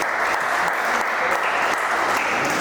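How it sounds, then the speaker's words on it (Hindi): Dense, continuous audience applause at a music and drama festival evening, loud and even for the whole stretch with no voices over it. "जोरदार तालियां बजाइए उनके लिए।"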